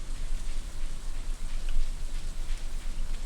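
In the Stardew Valley game, rain hisses in a continuous, even wash of soft patter, fairly close and uninterrupted, with no voices over it.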